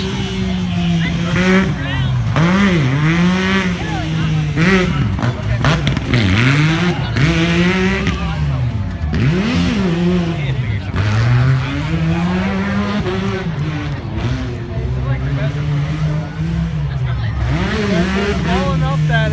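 Side-by-side UTV in the two-wheel-drive class racing at the Lebanon Area Fair Tuff Trucks track, its high-revving engine whining like a street bike and rising and falling through repeated throttle bursts, loud and close throughout.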